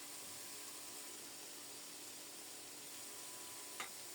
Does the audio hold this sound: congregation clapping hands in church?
no